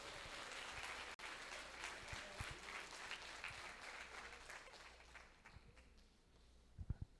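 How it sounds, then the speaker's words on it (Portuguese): A church congregation applauding during a Sunday morning service: sustained dense clapping, fairly steady throughout before tapering slightly near the end, with a few isolated louder claps at the close. "Então aplauda o Senhor"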